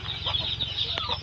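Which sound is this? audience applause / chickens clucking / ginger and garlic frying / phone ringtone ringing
chickens clucking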